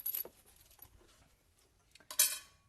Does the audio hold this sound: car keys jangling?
yes